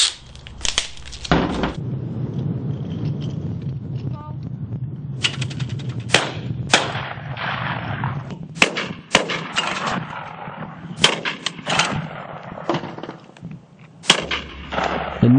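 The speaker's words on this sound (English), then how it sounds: "The noise produced by the guns can be heard several miles away" Shotguns firing at a clay pigeon shooting ground, a series of sharp, loud blasts spaced irregularly over a steady low outdoor rumble, some shots close together in pairs.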